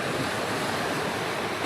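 Ocean waves washing onto a beach at night with steady wind, a continuous loud broadband rush without pauses.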